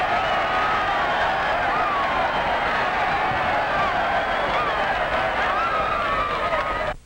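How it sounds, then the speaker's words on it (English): A crowd at a ball game cheers in a loud, sustained roar of massed voices and applause after a score, holding steady for several seconds before cutting off abruptly. "get a cheer like this"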